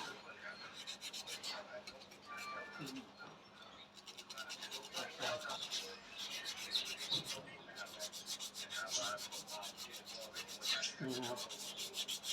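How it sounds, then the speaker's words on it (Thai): Repeated scratchy rubbing of sandpaper by hand against a coconut shell, rhythmic rasping strokes up close, with occasional speech in the background. "เราต้องใช้กระดาษทรายขัดนะ"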